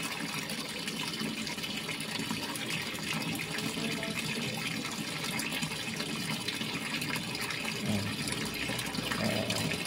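Sharp automatic washing machine filling with water, with a steady rushing inflow of water running continuously and fairly loud throughout, with no talking; the machine has a faulty water level sensor and keeps filling.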